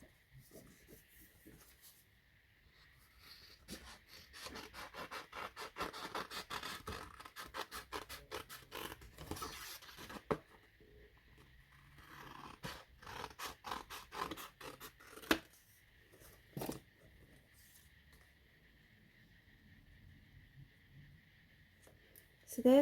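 Hand-held scissors cutting hill shapes from Whisper White cardstock, a close series of crisp snips and scratchy paper rasps in bursts with quiet gaps, and a voice speaking softly at times.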